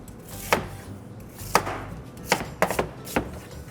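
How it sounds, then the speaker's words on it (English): A knife chops apples in half on a cutting board while food is prepared for zoo animals, with about six sharp, close thuds at uneven intervals over a quiet kitchen background. "So I usually just cut these apples in half"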